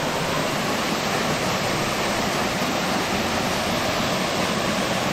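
Bara Bakhara Waterfall heard from below, a loud, steady roar of falling water filling the air as dense broadband rushing with no pauses and no voices.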